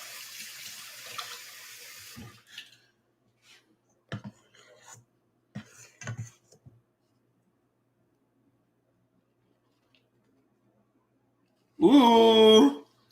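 Tap water runs in a kitchen sink while something is rinsed out during pumpkin pie preparation, a short loud gush near the end after a few soft clinks and handling noises.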